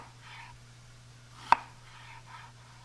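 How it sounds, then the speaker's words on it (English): A knife cuts through an onion on a cutting board with a single sharp, close chop against quiet kitchen hum. "Lay it flat, and I just slice a couple of small slices going through."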